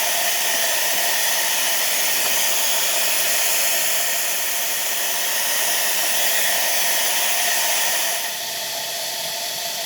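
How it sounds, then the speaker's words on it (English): An auxiliary blower runs on a steam engine that is building up to working pressure, giving a loud, steady, broadband rushing hiss that eases slightly in level near the end. "Now that the engine's reaching working pressure, we can take off the auxiliary blower"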